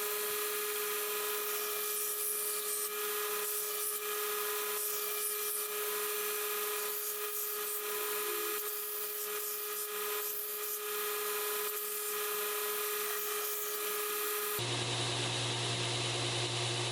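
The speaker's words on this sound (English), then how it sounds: "120 grit right now just to get rid of those harsh grinding lines" Continuous rasping sanding of a scrap-steel knife blade with 120 grit paper, a steady close scrubbing texture that runs for about fifteen seconds before abruptly changing to a different, more muffled tone.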